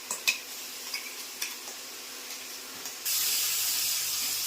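Spices for a vaghar tempering with turmeric and ginger-chili paste sizzle in hot oil, a few light stirring clicks early on, then a sudden louder, steady hiss of frying takes over for the last stretch.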